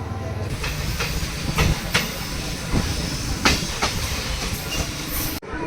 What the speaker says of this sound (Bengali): বাইশ মিনিট লেট করে ট্রেন ঢুকছে